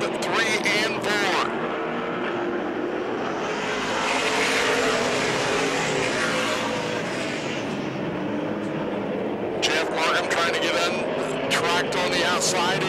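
Late model race cars roar around a track at the start of a feature race, a continuous engine drone that swells and fades as the pack passes, with an announcer calling the race over it.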